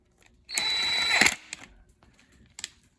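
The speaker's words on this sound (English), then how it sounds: "Now, let's put these bolts back on." A power gun drives bolts into a Buick 3.8 turbo V6 oil pump, one loud mechanical whirring burst of about a second, then quieter clicks and a brief rattle.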